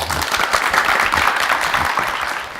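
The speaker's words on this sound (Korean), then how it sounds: "큰 박수로 강의 듣겠습니다" Lecture audience applauding as a university president's education talk begins, a brief burst of steady crowd clapping, fairly loud and close, fading slightly at the end.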